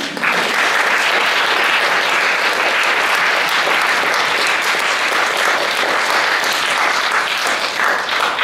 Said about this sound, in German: Bitte noch einen Applaus für die Elke